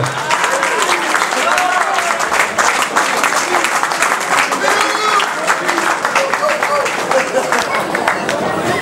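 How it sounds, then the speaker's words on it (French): A crowd applauds loudly for player Philippe Gauthier after a rugby match, continuous dense clapping with some cheering and crowd noise, close and full throughout. "je vous demande d'applaudir bien fort Philippe Gauthier"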